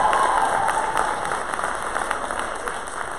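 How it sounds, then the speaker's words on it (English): An audience at a Durham Public Schools event claps steadily, a dense wash of applause that holds at an even level before easing off slightly. "Give another round of applause."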